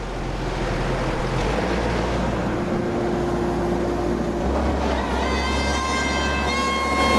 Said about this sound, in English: I'm going to turn this air compressor on and get it started.